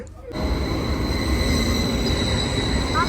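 A Swiss train rolls along steadily on the way to Basel, with a loud, continuous rumble of wheels on rails, thin squealing tones and faint rhythmic clatter heard from inside the carriage, with no talk.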